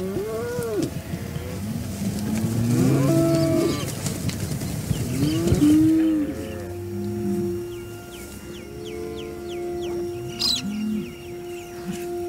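Cattle on a farm lowing repeatedly, several long, loud moos from more than one cow close by, with birds chirping and calling faintly in the background.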